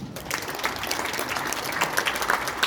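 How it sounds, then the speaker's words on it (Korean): Audience at a Korean church pastors' seminar applauds, a continuous crowd clapping with some sharper individual claps standing out. "우리 박수 한번 해주시기 바랍니다."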